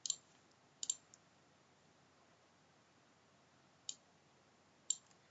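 Sparse keyboard typing: a few separate clicks and short bursts of keystrokes at the start and again near the end, quiet and close, with long silent gaps between them.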